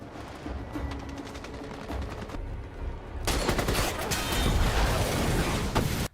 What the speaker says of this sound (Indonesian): di saat tembak-menembak itu terjadi